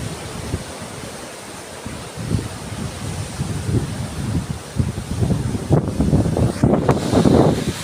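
Strong northeast monsoon wind roars across the microphone in steady gusts, with the broad rushing wash of big waves nearly two metres high underneath, loud and continuous.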